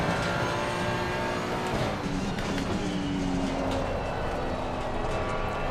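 A Ferrari race car in Assetto Corsa Competizione circling Watkins Glen, the engine a steady loud droning roar with shifting pitch, tire and wind noise blended in, no voices.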